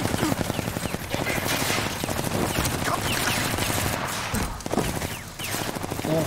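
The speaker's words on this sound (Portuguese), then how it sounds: "tá levando um tiro aqui" Sustained rapid gunfire in the video game Rage 2, dense loud automatic bursts and shots continuing throughout with a brief dip near the end.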